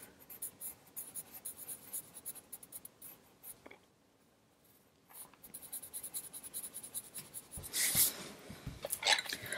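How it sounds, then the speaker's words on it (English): Polychromos colored pencils scratch softly over paper in small circular strokes, a faint dry rustle that pauses briefly, then returns with sharper scratches near the end. "when coloring, that will give me the smoothest outcome with the pencils"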